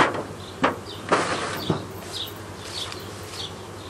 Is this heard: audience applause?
no